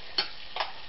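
Flour being stirred into melted butter in a pan over medium heat, heard as two soft scraping swishes of the spoon against the pan with quiet sizzle between, close and faint.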